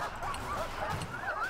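A guard dog in the Prison Architect video game barks and yips in quick, close bursts, heard alone over game background sound.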